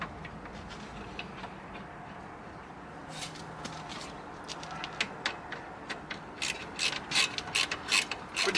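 Ratchet rig being worked at a bench near a vice, quiet at first, then repeated sharp ratcheting clicks in quick bursts that grow louder and denser toward the end.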